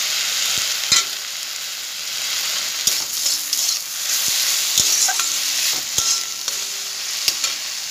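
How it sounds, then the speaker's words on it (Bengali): Turmeric-dusted jute leaves fry in a pan with a soft, steady sizzle, while a spoon stirs them and scrapes the pan in sharp, irregular clicks, close up with no talking. "একটু কষিয়ে নিয়ে ভালো করে শাকটা।"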